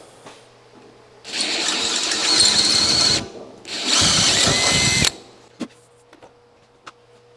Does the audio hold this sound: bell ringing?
no